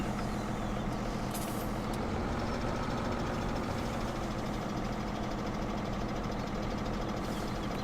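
A tractor with a front bucket idles in Farming Simulator 17, a steady, loud diesel rumble that runs continuously and alone, with a brief hiss of air near the start.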